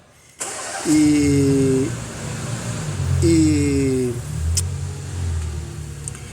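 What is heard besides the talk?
2015 Chevrolet Tracker engine starting and running with noise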